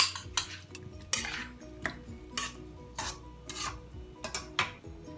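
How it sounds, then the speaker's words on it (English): A spoon mixes broth into tomato paste and sugar in a bowl, making a rhythmic series of close scraping and clinking strokes about twice a second. "I put a little bit of the broth and mix it a little bit."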